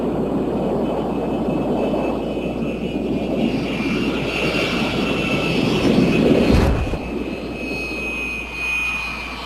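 A steady, loud roar of a high-altitude spy plane's jet engines drones on without a break, swelling briefly with a deep rumble before easing back, and no voices are heard over it.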